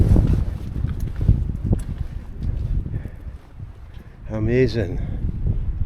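Wind blows across the microphone on an open hill walk near Queens View and The Whangie, a low buffeting rumble through the first seconds that eases off. Someone speaks briefly over it.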